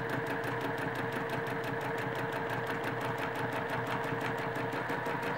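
Sewing machine stitching a plume design into fabric, running steadily with a fast, even mechanical chatter and hum at close range.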